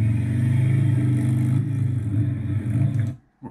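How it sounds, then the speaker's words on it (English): A competition motor runs loud and steady through a driving run, a continuous harmonic hum with rhythmic pulsing that holds nearly three seconds before cutting off abruptly, then a brief restart at the end. "Listen to the motor."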